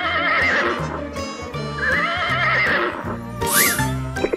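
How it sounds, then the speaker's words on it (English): A horse neighs loudly in a long, whinnying call that rises and falls, with hoof clip-clops mixed in and no talking. "H for horse."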